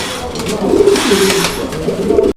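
A pair of tailmark fancy pigeons, a male and a female, coo in low, repeated throaty calls, close and fairly loud over a steady background hiss.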